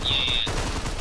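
Machine gun fire in a zombie shooter game, a short, steady, dense burst running under a high whine with no talk.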